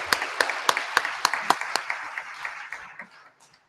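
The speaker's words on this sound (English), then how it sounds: "So, just big clap for them" A small audience claps for development journalism students at an IIMC orientation programme, a few sharp distinct claps quickly swelling into close applause that thins out and fades over a few seconds.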